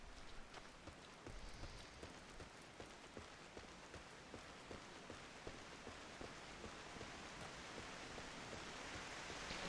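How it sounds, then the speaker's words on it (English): Rain falls steadily in the Final Fantasy XIV game world, a soft, even patter of drops on surfaces with scattered sharper drips, quiet and continuous with no voices. "it's raining for them too"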